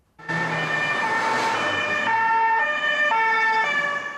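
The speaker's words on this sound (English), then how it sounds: "Today, the sirens were sounding for the dead and wounded of St Etienne's church" Emergency vehicle sirens wail in the streets of Rouen, France, with a loud, steady, close tone that shifts pitch in stepped cycles and no talking.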